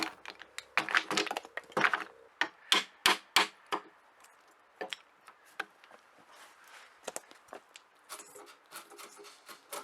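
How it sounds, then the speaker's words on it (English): A chisel works the end of a wooden tenon in traditional timber joinery, giving a close series of sharp taps, chops and scraping cuts in uneven bursts, clustered early and then lighter and more scattered. "So I usually tend to do that with a chisel"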